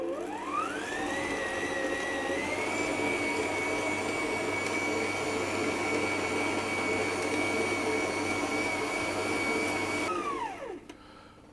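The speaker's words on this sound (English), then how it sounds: "I'm going to knead again for another 5 to 10 minutes until the dough has come away cleanly from the bowl" Bread dough for soft Japanese milk bread being kneaded in a bowl, a steady machine-like whir with a constant whine holding for about ten seconds before winding down at the end, with no talking.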